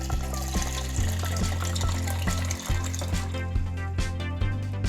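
Water pours steadily into a mint lemon slush drink with lemon juice, a continuous splashing trickle close up, accompanied by a low steady hum throughout.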